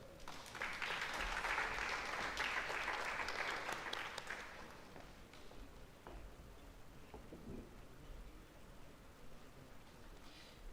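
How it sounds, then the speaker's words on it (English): A school presentation ceremony audience gives a graduating captain a round of applause: a dense wash of clapping swells early, holds for a few seconds, then thins out and fades to scattered claps and room noise. "Can we get another big round of applause for Sebastian as he leaves the stage?"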